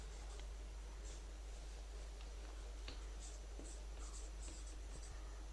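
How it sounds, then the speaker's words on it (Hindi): Chalk or marker strokes on a classroom board during a chemistry lesson, faint scratchy writing marks in short bursts over a steady background hiss, with no talk. "चलो लिख ले रहा हूं इंटर न्यूक्लियर एक्सिस"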